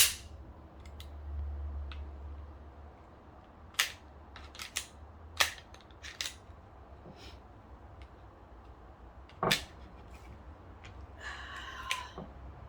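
Sharp metallic clicks and clacks as the slide of a Mossberg pistol is worked back toward its lock, scattered single snaps spread over several seconds with a faint low rumble between them and a brief rattle near the end.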